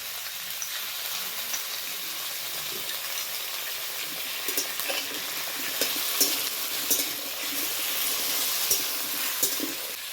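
Papaya pieces fry with onion, ginger and garlic paste, a continuous soft sizzle with occasional sharp spatters and light stirring, growing slightly louder toward the end.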